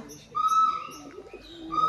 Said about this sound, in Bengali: এই যে কবুতর, কবুতর ডিম পারছে।